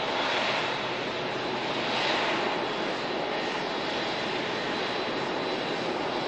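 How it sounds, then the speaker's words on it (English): An Airbus A380 in newer livery rolls past at Manchester Airport, its engines giving a loud, steady broadband roar that swells slightly and then holds. "A380 rolls past."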